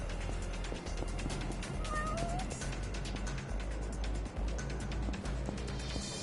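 A cat gives a couple of brief meows, fairly faint and mixed into a continuous wash of game audio and background noise; nobody speaks.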